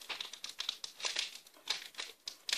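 A Pokémon card booster pack wrapper torn open by hand, making close, bright crinkling and crackling with quick tearing bursts over a couple of seconds and no talking.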